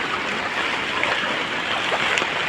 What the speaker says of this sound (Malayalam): ഇവിടെ നിറഞ്ഞിട്ടാണ് അഥവാ കര കവിഞ്ഞ് ഒഴുകുന്നതാണ്